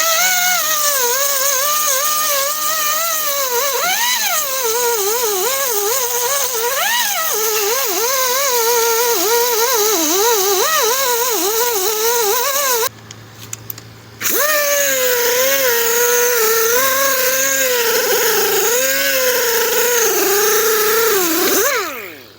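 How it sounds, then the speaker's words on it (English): Angle grinder fitted with a Roll-Lock 36 grit disc grinding rust and loose paint from a 2009 Dodge Ram: a loud, continuous whine that rises and dips with pressure, cutting out briefly before spinning back up. "So I'm gonna run over it with the Roll-Lock 36 grit, try to get the rust and the loose paint off"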